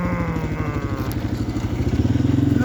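A dirt bike engine drops through the gears while slowing toward a stop sign, its revs stepping down before settling into a close, even, pulsing chug near the end.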